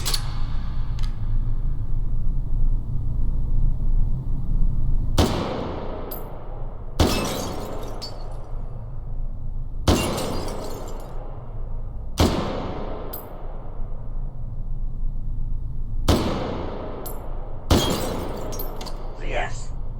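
Semi-automatic rifle fire: six sharp, loud shots spaced a couple of seconds apart, each with a ringing, decaying tail, over a steady low rumble and background voices.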